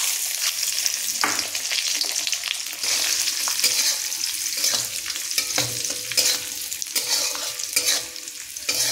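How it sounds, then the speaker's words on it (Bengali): Raisins frying in a kadai, a loud close sizzle and crackle running throughout, broken by repeated scraping and stirring knocks from a spatula, with no speech. "এরপর ভেজে নেব কিশমিশ।"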